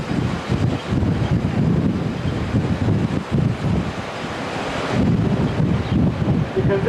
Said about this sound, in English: It gets windy here